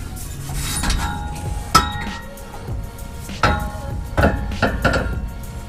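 Metallic clunks and knocks as exhaust tailpipes are pried loose from their rubber hangers beneath a Dodge Ram 1500, several sharp irregular clanks spread over a few seconds amid scraping and rattling.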